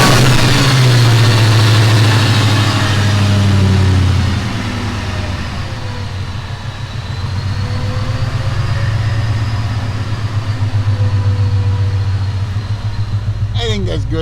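A Saleen car engine idles, a loud steady low rumble close by that settles from a higher fast idle into a lower, even throb, with a brief clatter at the end.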